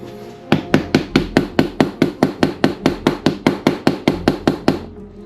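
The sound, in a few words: tapping grease cup to settle remaining grease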